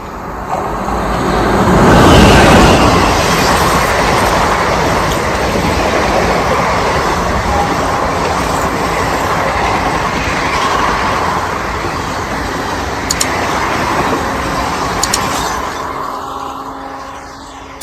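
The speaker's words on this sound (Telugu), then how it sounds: "ట్రైన్ వచ్చింది చూడొచ్చు" A train rolls past close by, loud and continuous, its rumble and clatter swelling early and then holding steady before easing off toward the end, with a few sharp metallic clicks near the finish.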